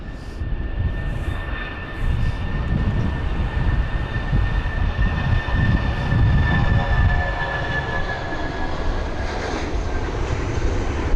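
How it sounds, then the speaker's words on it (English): A 16-year-old Airbus A319 taxis at London Heathrow in stormy, windy weather, its engines giving a steady broadband roar with a thin whine held throughout, fairly close and unbroken for the whole stretch. "it is the A319 off to Hamburg, flight number EW7463"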